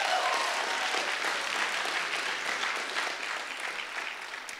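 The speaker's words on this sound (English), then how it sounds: "Give yourself a round of applause for that." Steady applause from a sizeable audience at a college welcome event, sustained broadband clapping at an even level throughout that tapers slightly near the end, with no talking over it.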